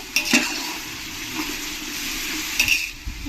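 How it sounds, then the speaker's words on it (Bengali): Onions with two spoons of salt frying in a pan for mutton biryani, a continuous close sizzle with stirring scrapes and a few sharp clinks of a spoon against metal, no voices. "পেঁয়াজের মধ্যে দিয়ে দেবো দু চামচ লবণ তাহলে আমার পেঁয়াজটা একটু তাড়াতাড়ি ভাজা হয়ে যাবে"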